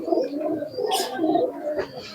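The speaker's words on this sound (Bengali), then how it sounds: "ফালসার লাইনের কবুতরগুলো দেখুন" Pulsar line racing pigeons coo in soft, low, throaty rolls, several birds close by and overlapping in a continuous murmur, with a brief rustle of wings or movement partway through.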